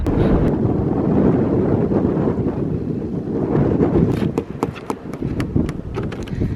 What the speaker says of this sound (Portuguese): Nossa, que ventania que tá aqui.